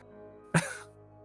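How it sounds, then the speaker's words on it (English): A single short cough sounds in the background over a quiet steady hum, brief and moderately close, no talking. "You hear some coughing in the background."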